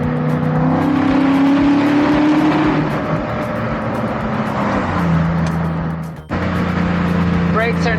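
A classic car with a naturally aspirated engine and manual gearbox is driven hard, its engine note rising and falling through gear changes with a brief cut near the end, and someone talks over it.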